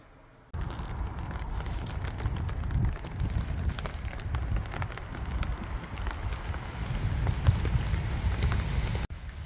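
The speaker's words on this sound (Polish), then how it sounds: "dzisiaj spacer pod parasolem niestety pada" Rain drumming on an umbrella during an outdoor walk, a close, continuous pattering hiss that starts abruptly and holds steady before cutting off.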